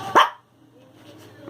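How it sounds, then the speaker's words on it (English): One sharp, loud dog bark close by, followed by a low, faint background hum. "And I don't know why Rusty is barking"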